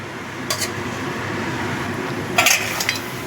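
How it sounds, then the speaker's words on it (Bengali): Fried crabs tumble into a pot of crab curry and get stirred, a couple of brief clattering scrapes of spoon against metal over a steady low sizzle, with no talk. "এবার এর মধ্যে দিয়ে দিচ্ছি ভেজে রাখা কাঁকড়াগুলো।"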